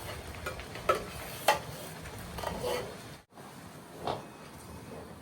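Onion and tomato puree roasts in a pan with a soft, steady sizzle, broken by a few sharp stirring scrapes and clicks of a utensil.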